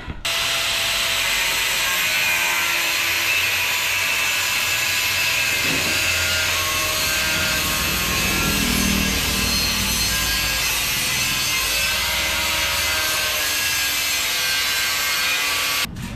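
A grinder works on wood for a tabletop counter, producing a loud, steady abrasive whine and rasp that continues unbroken from start to finish with no voices.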